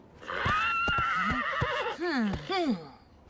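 A cartoon horse gives a long, loud, close whinny with wavering, quavering pitch and snorting breaths, along with a few hoof clops, heard alone without talking.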